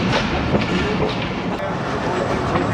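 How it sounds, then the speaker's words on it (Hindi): A Pakistani Awam Express passenger train runs along the rails with a steady, loud rumble and faint rhythmic wheel clatter, the noise filling the whole stretch without letup. "और मंदरा रेलवे स्टेशन पर रुक गई है ट्रेन लूप लाइन पे"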